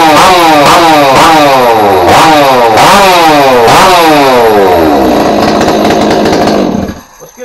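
A modified chainsaw engine with a raised exhaust port roof screams at high revs, blipping repeatedly in rapid rising surges before holding a steady wail and cutting off. It is loud, close and harsh.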